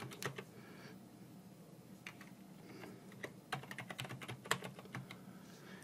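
A password is typed on a computer keyboard while an administrator user is set up in Windows Server 2016. Quiet, close keystrokes come in scattered bursts, speeding into a quicker run near the end.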